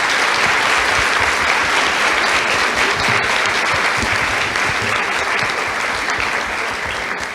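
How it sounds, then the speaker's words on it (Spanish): Sustained applause from a conference audience honoring a speaker at a constitutional law congress, steady dense clapping that fills the room for several seconds without pause. "Yo pediría un aplauso nuevamente para el expositor."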